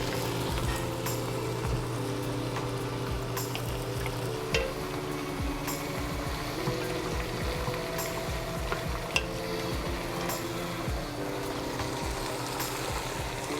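Meat frying in a pan in a home kitchen, a steady, continuous sizzle with occasional stirring scrapes, close and moderately loud throughout with no voices.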